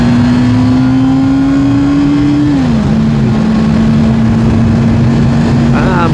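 A motorcycle on the ride to work drones loudly and continuously close up, its engine note holding steady, then dipping once as it shifts before settling back into an even hum.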